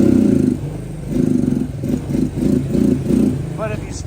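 A Suzuki Quad Runner ATV engine running rough, throbbing in uneven pulses and surges that repeatedly rise and sag at close range, with a voice partly over it.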